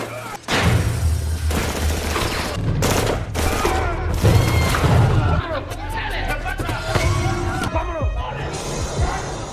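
Gunfire from a shootout in the film A Man Apart, where a DEA team raids a party: dense volleys of loud, close shots and booms fire nearly nonstop under a narrator's voice and background crowd noise.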